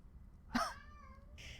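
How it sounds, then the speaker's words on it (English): A cat lets out a single short meow, a brief rising cry heard fairly close over a quiet room background. "all of the cat noises that are cut out of him"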